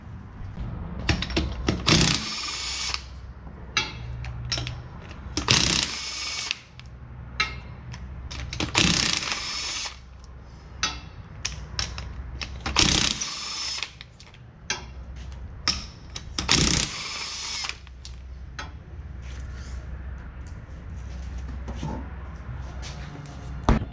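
A power tool works on a car wheel during a Brembo brake upgrade, firing in several short loud whirring bursts separated by pauses and quieter clicks and handling noises.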